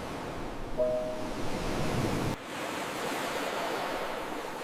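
Ocean waves wash ashore at a hidden beach in Busan as a steady, fairly soft broadband surf hiss, with a faint tonal chirp early on and a slight drop in level partway through.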